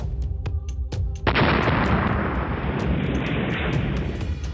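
Security forces detonate an IED-laden car carrying about 40 kg of explosive in Pulwama, Jammu and Kashmir. Scattered sharp cracks give way to a single huge boom, then a loud, lingering rumble as debris scatters.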